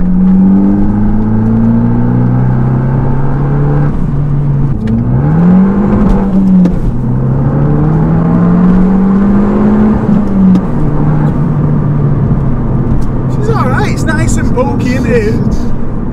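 A Fiat Abarth accelerates on the road, its engine note climbing and dropping through gear changes and droning loudly from inside the cabin while people talk over it.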